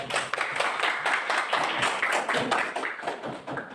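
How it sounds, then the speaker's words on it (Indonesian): Audience clapping for a group that has just finished presenting at a classroom or school gathering, a dense steady patter of many hands held at an even level for the whole stretch. "Kita berikan aplaus kepada."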